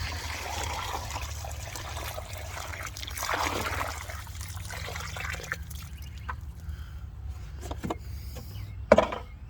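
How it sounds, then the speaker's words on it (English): Water from a tree-soaking bucket is poured onto the soil around a newly planted fruit tree in a garden, giving a quiet, uneven trickle and splash that thins out, followed by a faint drip and a brief knock near the end. "So I'm just going to take this water we were soaking our tree in."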